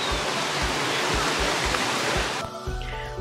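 Kakochang waterfall in Assam rushing close by, a loud dense broadband roar of falling water that holds steady, with a few soft thumps underneath and a slight change near the end.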